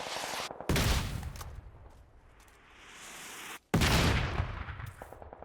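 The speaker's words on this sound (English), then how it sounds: "Just random mortars that someone's just throwing down." Mortar fire in a video game arrives as heavy, booming blasts that rumble and fade, with two abrupt loud impacts separated by a quieter stretch of distant rumbling.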